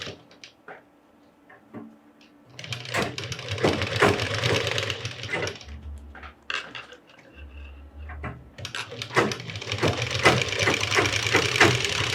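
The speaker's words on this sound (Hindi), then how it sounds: "इसको हम उल्टा के ऐसा सिलाई मार लेगा" A sewing machine runs in close bursts to stitch a box-pleated skirt seam, its needle ticking in a fast steady rhythm, with quiet pauses between runs.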